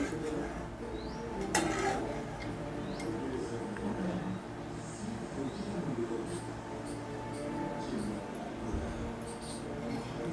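Faint clinks of dishes and utensils as fish curry is served at home, soft scattered taps and scrapes against a low background hum, with a brief brighter clatter near the start.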